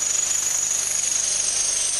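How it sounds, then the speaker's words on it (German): A hand-held drill bores the crest line of a Trabant 1.1 car door in a factory, giving a steady, loud, high-pitched whine with a fast rattling texture throughout and no talking. "Die Kammlinie wird manuell gebohrt."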